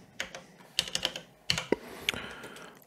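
Someone typing on a computer keyboard, a handful of crisp, close key clicks in an irregular rhythm with short pauses between strokes, no voices.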